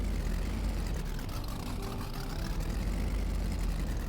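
A gas truck engine in Farming Simulator 22 runs rough and loud, like an old carbureted engine with a cam, a dense steady low rumble that sounds close to stalling, with no talk.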